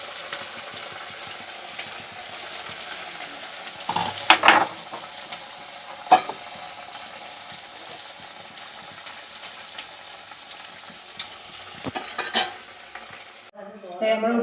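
Onion vadas (ulli vada) sizzle in hot oil, a steady close frying hiss with a few louder bursts and spatters as pieces are dropped in and stirred, and no voices.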